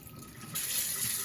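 A tap running over Thai long-grain rice as it gets rinsed, a steady close splash of water into a sink that swells a little louder partway through.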